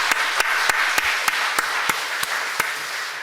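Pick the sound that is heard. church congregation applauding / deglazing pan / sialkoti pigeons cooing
church congregation applauding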